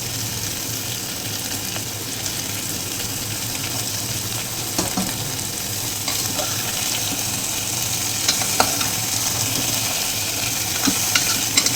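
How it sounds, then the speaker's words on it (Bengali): Papaya, ridge gourd, carrot and capsicum sizzle steadily in a pan. A utensil scrapes and stirs now and then, giving soft clicks over the constant frying hiss, and no one speaks. "এই একটুখানি ভাজা ভাজা হবে, একটু হলুদ গুঁড়ো দিয়ে দিই।"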